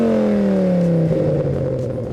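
Modified Honda Civic hot hatch with an aftermarket exhaust revs up, a loud close engine drone whose pitch climbs steadily before shifting into a deeper, rumbling exhaust note.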